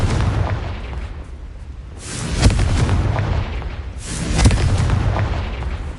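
Two heavy booming blasts from the Confringo fire-blast spell in Hogwarts Legacy, each swelling into a loud roaring burst over a constant rumbling background.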